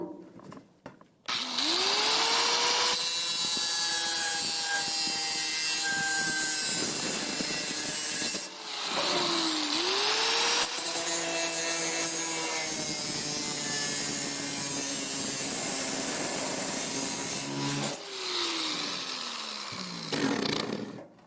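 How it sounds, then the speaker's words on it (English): An angle grinder cuts aluminum fascia outdoors. Its motor whine rises as it spins up, then a harsh, grating cut runs for long stretches with a few brief pauses between passes. "You can also use the angle grinder for cutting fascia."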